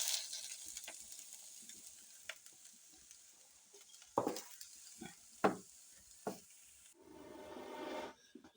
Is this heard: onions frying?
yes